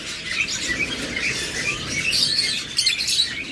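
Creamino opaline red-eye lovebirds, a pair emerging from a box, chirp in quick high repeated tweets with light rustling, fairly close and continuous without talk.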